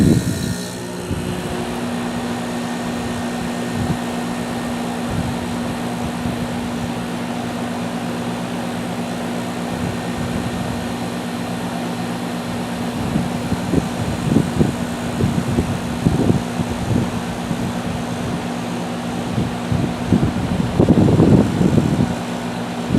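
A 2016 Carrier central air conditioner on the second floor hums steadily after its season startup, with broad fan whoosh and a constant tonal drone. Scattered thumps and rattles rise near the end.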